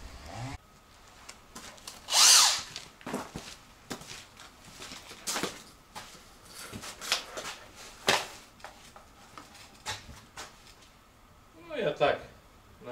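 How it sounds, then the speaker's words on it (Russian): A drill bores holes in wood for shed door screws, with short bursts of whirring and scraping spread across the clip and someone talking between them. "вот таким сверлом сейчас насверлю"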